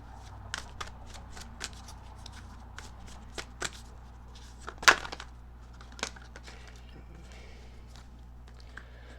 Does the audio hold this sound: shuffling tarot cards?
yes